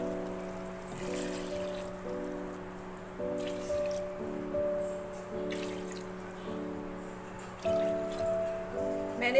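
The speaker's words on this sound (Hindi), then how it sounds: "मैंने इसके अंदर 4 गिलास पानी ऐड किया है" Water is poured into a cooking pot of softened chicken for Hyderabadi chicken pulao, giving a few soft splashing bursts under steady background music.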